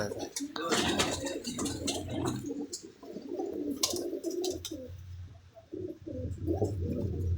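Pigeons cooing inside a loft where birds are nesting and raising young, soft throaty coos repeating close by, with someone talking over them and some rustling and handling noise.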